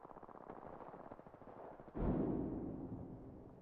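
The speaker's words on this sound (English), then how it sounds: "Grenade out!" Grenade blast in a video game: a burst of rapid gunfire gives way to one sudden booming explosion that rolls off into a fading rumble, heard without talk.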